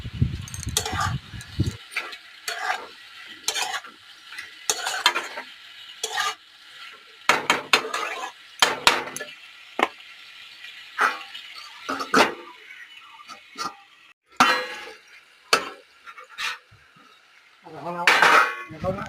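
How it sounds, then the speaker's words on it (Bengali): Dried fish (shutki) frying with taro stolons in a pan, a soft sizzle under frequent clattering, scraping stirs of a utensil against the metal pan, close by, with bursts of talking between the stirs. "শুটকি দিয়ে আর একটু ভাজা করবো।"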